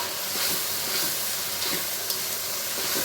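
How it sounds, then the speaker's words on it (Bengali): Beef sizzles in a pan with salt, ginger and garlic, giving a close, even crackling hiss broken by faint stirring scrapes, with no talk over it. "লবণ দিলাম, আদা রসুন দিলাম, একটু ভাজা ভাজা হোক।"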